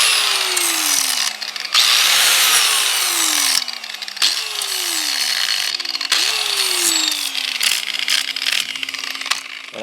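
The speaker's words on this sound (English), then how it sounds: "I'm going to use a combination of a grinding wheel and a wire brush and a flap disc just to clean up the edges" A grinding wheel, a wire brush and a flap disc clean up the metal edges of a mailbox support. A loud, close power-tool whine sounds in repeated bursts, and its pitch sweeps downward each time the tool spins down.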